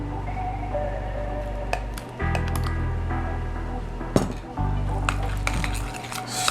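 Tofu, cooked Moroccan couscous and romesco are stirred together in a bowl, giving close clinks and scrapes of a utensil against the dish in uneven strokes, with no talking.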